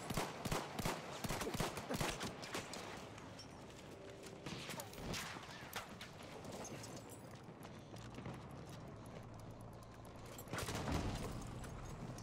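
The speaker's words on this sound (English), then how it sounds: "Spotted a machine gun!" Machine gun fire in the Battlefield 1 video game, rapid clattering bursts of shots, dense and loud at first, then thinning into scattered reports over ongoing battle noise.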